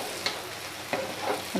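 Pigeon meat fries in a pan with a soft, steady sizzle and a few brief stirring clacks close by.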